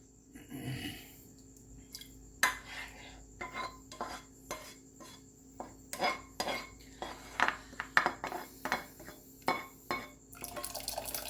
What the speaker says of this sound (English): I'm going to clean my pan as well